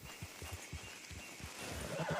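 A horse whinnies over a steady rhythm of clopping hooves, fairly close and unbroken, with no talking.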